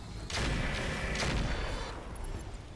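Mech weapons firing in the Roguetech video game, a heavy booming volley of artillery-like blasts rumbling over nearly three seconds, loud and close.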